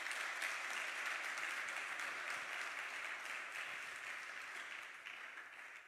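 A church congregation applauds and cheers in a dense, steady wash of clapping that holds for several seconds and slowly fades, with no speech over it.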